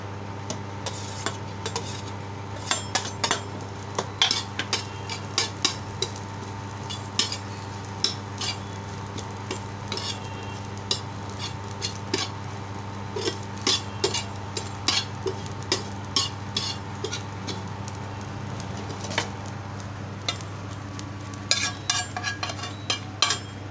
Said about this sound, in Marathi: आता हे मी वाटप क्रमाक्रमाने गरम तव्यावर भाजून घेणार आहे